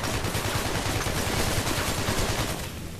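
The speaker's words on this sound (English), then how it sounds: "Go to the shooting range. Through here? Hello. Use the left mouse to shoot." Rapid automatic gunfire rattles loudly and continuously at a shooting range in the video game Hatred, a dense burst that fades out near the end with no speech.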